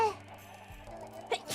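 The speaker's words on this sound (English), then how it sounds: "How many times have I sneezed today so far?" A single sharp human sneeze bursts out near the end, short and close, after a stretch of soft background music.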